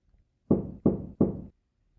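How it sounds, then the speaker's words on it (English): Three gentle knocks on a bedroom door, evenly spaced and close by, each a short dull thud with a brief decay, followed by silence. "His bedroom door gently knocked."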